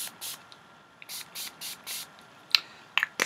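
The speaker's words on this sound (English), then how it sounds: "Perfect spray." A spray bottle for a Lindy's craft product, freshly fitted with a new cap and primed, gives several short, quiet hissing bursts in even succession, followed by a few faint clicks near the end.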